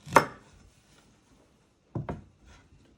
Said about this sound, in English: Then you want to chop the roots off.